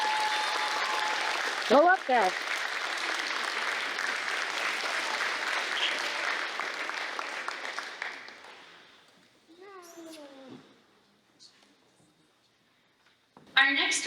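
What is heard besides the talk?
audience applause at an award ceremony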